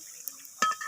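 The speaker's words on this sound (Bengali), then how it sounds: "একদম হালকা আঁচে কিন্তু ভেজে নিতে হবে।" Bok flower fritters fry over very low heat in a pan, with a quiet background and then a sudden short burst of scraping and sizzling as a spatula turns them.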